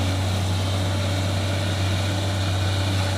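A Mitsubishi six-cylinder turbo engine running, a loud, steady, low droning hum with a constant pitch and no pauses.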